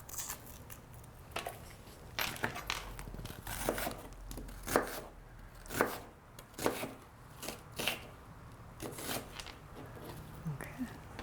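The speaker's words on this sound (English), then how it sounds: "I'm just going to chop that also, just like I did the yellow or white onion." Knife chopping through yellow or white onion on a board, a series of crisp, irregular cuts at close range, with no voices over them.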